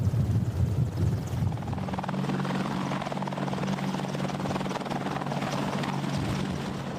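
A US military Apache helicopter taking off, its rotor and turbine roar loud and steady and close, with a thumping low drone that holds throughout and no talk over it.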